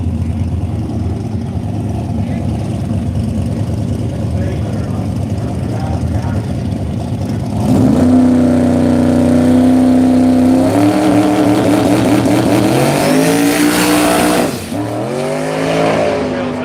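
Radial-tire drag racing cars at an Australian strip idle with a rough burble, then roar up loudly as they launch, pitch climbing through the gears. A commentator talks over the engines.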